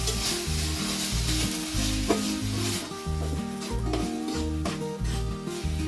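Tomatoes sautéing in a pan with salt, a steady close sizzle under stirring scrapes, while tonal music plays throughout.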